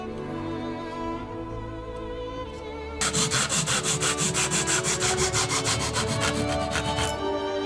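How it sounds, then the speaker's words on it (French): Wood is sanded flat by hand while a Stradivarius-model violin is being made. Quiet scraping comes first, then a loud, steady rhythmic back-and-forth rasp of sandpaper on wood with no talk over it. "puis poncer pour obtenir une surface parfaitement plane."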